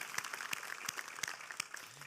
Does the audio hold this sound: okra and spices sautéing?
no